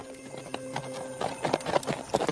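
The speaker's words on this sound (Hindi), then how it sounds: "रकीब आता ही होगा तांगे वाले को लेके।" Horse hooves clip-clop on a road as a tonga horse cart draws near, the quick irregular footfalls growing louder toward the end, with faint background tones.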